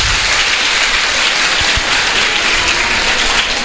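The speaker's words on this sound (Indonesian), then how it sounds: "tepuk tangan untuk panjenengan semuanya" Steady applause from a crowd of junior high madrasah students at a school legal outreach session in Kediri, dense clapping filling the whole stretch at even loudness with no talk over it.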